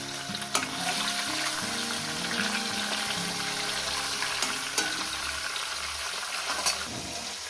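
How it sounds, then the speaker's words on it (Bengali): Five rohu fish pieces fry in hot oil with a dense, steady sizzle and crackle, a few sharp clinks punctuating the constant frying, no voices. "পাঁচ টুকরো করে করে দুবার আমি ভেজে নেব"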